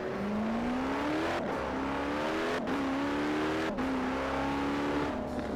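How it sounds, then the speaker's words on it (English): A Koenigsegg Jesko's flat-plane crank V8 revs hard in Forza Horizon 4, climbing in pitch through the gears. Three brief breaks mark the quick upshifts, and the engine stays loud and continuous with no talk over it. "when we talk about the engine in this thing, it's a flat plane crank V8"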